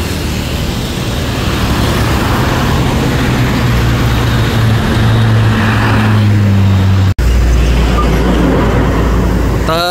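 A bus rumbling past a roadside restaurant in Cirebon, loud and steady engine and road noise under a low drone, with a brief cut near the end.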